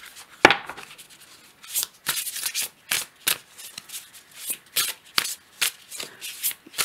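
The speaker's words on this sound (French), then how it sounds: "Je vais tirer une dernière carte." Tarot cards are shuffled and drawn by hand: a sharp slap, then a run of quick riffling and snapping bursts in an uneven rhythm, close and fairly clear, with no talking.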